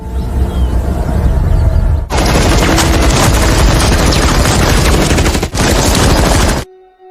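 Hunters firing guns in a film scene: a dense, continuous barrage of rapid gunshots and bursts, loud and close, running for several seconds before cutting off abruptly.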